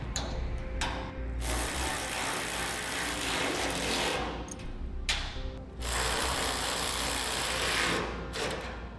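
A ratchet with a 13mm socket tightens a lock nut on a utility trailer in long, fast, steady runs of clicking, loud and close, with short pauses between strokes and no talking.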